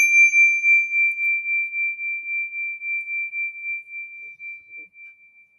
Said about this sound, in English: when you detect the vibration of my bell